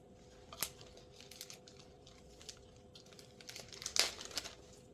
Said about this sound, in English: Put it in the Ziploc bag.